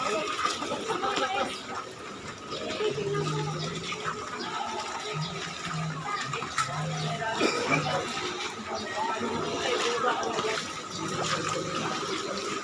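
Feet wade through ankle-deep flood water on a street in Malibay, Pasay, during heavy rain, giving continuous close splashing and sloshing under a steady rain wash. Someone talks over it throughout.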